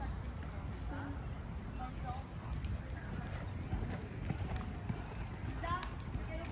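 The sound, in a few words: horse and pony hooves clip-clopping during riding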